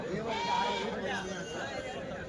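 Goats bleat at the Kadiri goat market, a wavering near bleat rising and falling over background crowd chatter and voices.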